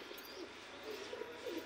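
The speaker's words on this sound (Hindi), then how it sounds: "तो अभी हम अपने कबूतर खोलने जा रहे हैं, आपको दिखाते हैं इधर।" Pigeons coo softly at close range in a short stretch of low, throaty calls over a faint background hiss.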